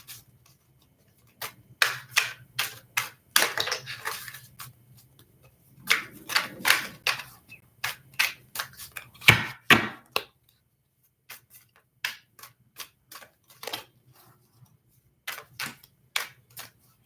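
Tarot cards are shuffled and riffled by hand in a long run of crisp, sharp bursts and snaps with short pauses between them, close up and with no voices.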